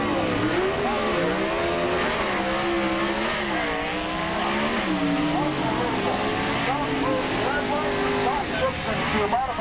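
Modified production Pontiac drag racing car at the 1985 IHRA Summer Nationals in Edgewater, engine roaring loudly with shifting pitch as it misses a gear, mixed with a public-address announcer talking over the track.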